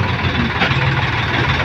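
A Sonalika DI 50 tractor stuck in a muddy field drones with a loud, steady, rumbling engine roar throughout, close and continuous, without any voices over it.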